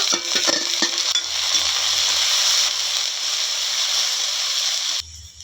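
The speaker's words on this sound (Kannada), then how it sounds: "ಈಗ ಸ್ವಲ್ಪ ಫ್ರೈ ಮಾಡ್ಕೊಂಡಿದ್ದೀನಿ." Mung beans frying in a pan with onion, curry leaves and dried chili: a steady, bright sizzling hiss, with a few sharp clinks of stirring at the start, ending abruptly.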